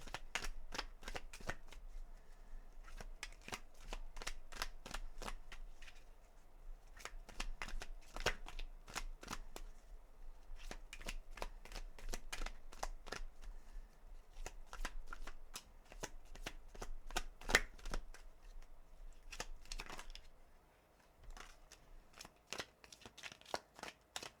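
A deck of tarot cards is shuffled by hand over and over, a steady run of crisp riffling flicks broken by short pauses, close and fairly quiet, with no talk.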